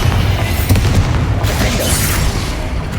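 Bombarda explosion spell going off in the Hogwarts Legacy video game: a loud, booming blast with crackling bursts and sustained rumble running for a few seconds amid ongoing battle sounds.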